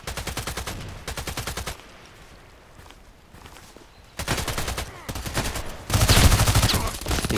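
Magpul PDR-C SMG fired in the Contract Wars video game, rapid full-auto bursts separated by short pauses, loud and close.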